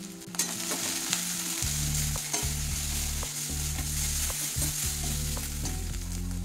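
Ground turmeric, coriander, cumin and chilli powders with ginger paste fry in hot oil for a fish curry, a constant close sizzle with spatula scrapes and stirring clatter.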